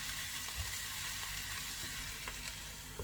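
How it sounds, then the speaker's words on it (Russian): Cabbage and mushrooms stew over the lowest heat, giving a soft, continuous sizzle and gentle bubbling with no talk. "Пусть тушится."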